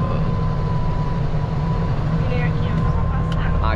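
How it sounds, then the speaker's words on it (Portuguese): A Volvo NL truck's engine brake holds it back while descending a mountain road, making a loud, steady, deep mechanical drone that continues throughout. "O freio motor desse caminhão, galera, original, ele não é igual do Ford, não, né?"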